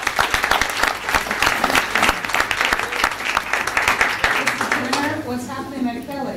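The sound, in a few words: audience applause at a school board meeting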